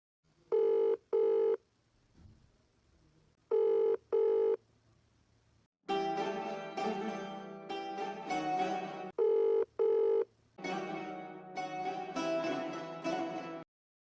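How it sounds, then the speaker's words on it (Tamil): A phone call is dialed, with short paired keypad tones repeating at intervals, and between them louder, longer ringback tones sound close and clear with no one talking. "டேய் சாய், சூப்பர்வைசர் நம்பர் தரேன், கால் பண்ணி பார்ட் டைம் ஜாப் கேளுடா."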